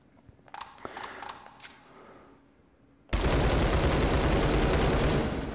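After a few scattered mechanical clicks and taps, a SCAR 16/17 rifle in a VR shooter opens up on full auto, a loud, dense, sustained roar of gunfire that carries to the end.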